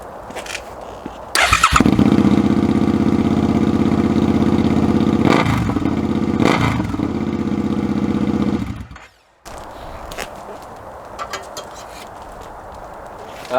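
A Suzuki SV650X motorcycle with its stock muffler removed fires up and runs loud and raw at close range for about seven seconds, with a couple of throttle blips, then cuts off. Faint background noise and brief voices follow.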